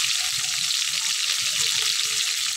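Garlic paste and a fish head frying in a pan, giving a continuous close, loud sizzle with faint stirring underneath and no pauses.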